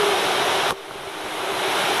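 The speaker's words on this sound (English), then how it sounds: "some vivid cascades producing relaxing soundtracks" Flowing water from brooks, streams and cascades through green parkland at Birr Castle, County Offaly, Ireland, a loud, steady broadband rush that briefly dips at one point before settling back to a constant flow.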